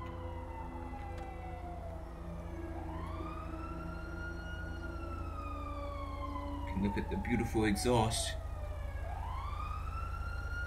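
A police siren wails in GTA V, rising and falling sweeps that grow louder under a steady engine drone, with a burst of clatter partway through and someone talking over it.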